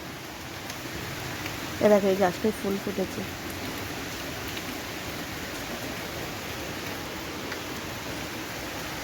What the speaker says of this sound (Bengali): বাইরে প্রচণ্ড বৃষ্টি হচ্ছে, তোমাদেরকে দেখাই চলো।